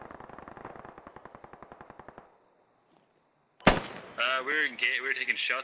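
Rapid automatic gunfire from a military shooter game, a long steady burst of evenly spaced shots that stops abruptly, then after a short silence a loud blast and crackling follow-up noise with sharp bright tones.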